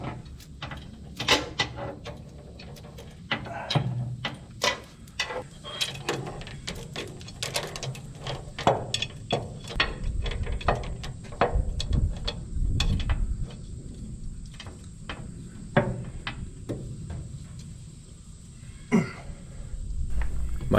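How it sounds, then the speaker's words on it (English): Cylinder gland being loosened by hand on a JLG 80 HX boom lift master cylinder, a series of irregular metallic clanks, knocks and tool scrapes close by, with no talk. "I'm going to go ahead and loosen this gland."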